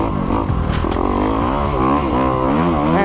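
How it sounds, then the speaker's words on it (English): Kawasaki KX250X 2021 dirt bike ridden through snow, its engine revving loud and close with rising and falling pitch throughout. "I'm out in search of dirt on the 2021 KX250X."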